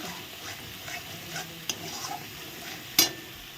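Paneer posto curry being stirred in a pan, with soft scraping strokes over a faint sizzle and a sharp clink of the utensil against the pan near the end.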